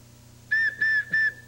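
A handmade wooden recorder whistle head sounds one clear, steady high note three times in a row, each breath lasting about a fifth of a second with short gaps, close and alone.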